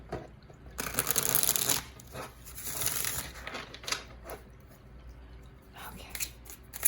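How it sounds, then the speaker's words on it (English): A deck of small tarot cards being riffled and shuffled up close, with bursts of papery flutter and soft tapping between them. "Oh, I love shuffling these cards."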